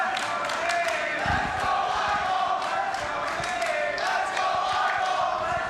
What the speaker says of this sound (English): Got the clashing, chanting going on.